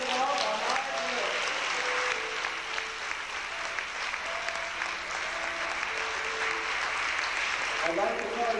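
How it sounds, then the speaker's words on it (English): Sustained audience applause after a Christmas school play, a dense steady wash of clapping that holds throughout, with a faint voice or two murmuring beneath. "they deserve another round of applause because of all the hard work"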